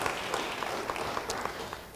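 A church congregation applauds during a worship service, a moderate wash of clapping with a few sharper individual claps standing out, fairly even over two seconds.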